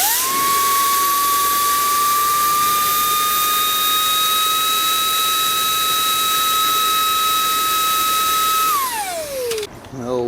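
A Makita cordless leaf blower fitted with its large nozzle runs at a sustained, loud, steady whine for about nine seconds, then its pitch drops quickly as the motor winds down near the end.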